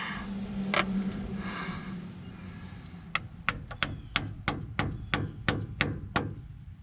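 Screwdriver prying at the front axle pinion seal of a Dodge Ram 2500 with a 9.25 AAM axle, a string of about ten sharp metallic taps and clicks coming in quick succession near the end, preceded by a softer scrape.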